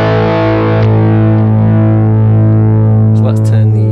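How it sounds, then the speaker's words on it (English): Electric guitar played direct through a Tech 21 Sansamp FlyRig 5 with the delay engaged: one loud distorted chord rings out and trails into repeating echoes, with faint pick or string noise near the end. "So now I've got the delay pressed on there,"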